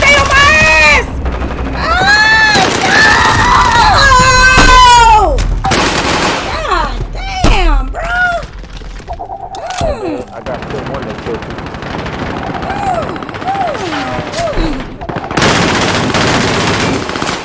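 Video game gunfire in a shooter, loud bursts of automatic fire and single shots rattling almost continuously, with players shouting and talking over the shooting.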